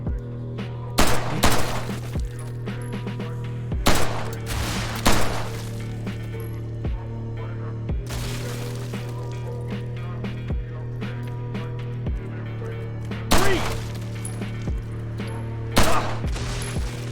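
Gunfire in a tactical shooting game scenario: bursts of close, loud shots fired at opponents in scattered volleys over a steady low engine-like hum, with no clear talking.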